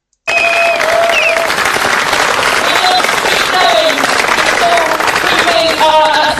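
A large audience at a political speech claps in sustained, dense applause that starts suddenly and stays loud and even throughout, with faint voices mixed in.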